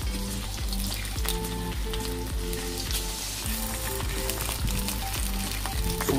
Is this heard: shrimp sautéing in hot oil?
yes